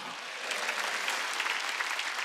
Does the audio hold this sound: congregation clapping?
yes